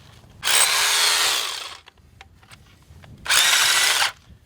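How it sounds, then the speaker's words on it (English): Two bursts of a loud hammer drill grinding into rock, each lasting about a second, separated by a short pause with faint clatter. "hammer action that drill bit backwards and forwards, chipping away at the rock"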